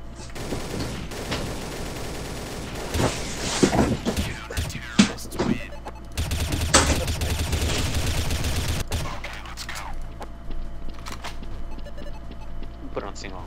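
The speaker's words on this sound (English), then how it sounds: "put it on single. Burst fire." Burst-fire gunshots in Counter-Strike: Source during a Gungame match: quick clusters of sharp shots and rattling volleys, loud and close, with pauses between, while players talk over them.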